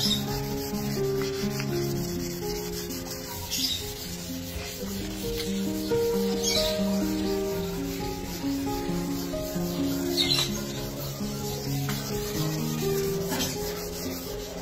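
Steady, rhythmic rubbing of wet sandpaper against a car headlight assembly, a continuous gritty scrubbing with back-and-forth strokes, close up and moderately loud.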